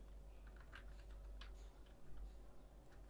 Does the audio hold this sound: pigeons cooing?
no